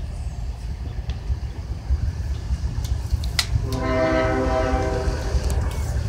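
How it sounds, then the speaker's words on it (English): A freight train led by GEVO locomotives sounds a long, loud multi-tone horn over the steady rumble of the passing train at a railyard. "Giving quite a horn show for NTD National Train Day."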